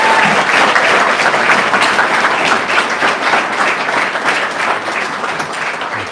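A room of guests at a service academy nominee reception gives the candidates a round of applause, loud close clapping from many hands that stays strong, then thins slightly toward the end.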